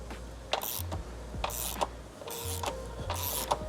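Hand tool ratchets in short repeated bursts while tightening front subframe bolts on a Mk4 Ford Focus ST, close-up clicking strokes separated by brief pauses, with no talking.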